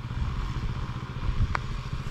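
A motorcycle engine idling or running close by, a steady low rumble with a faint clink partway through, no voices.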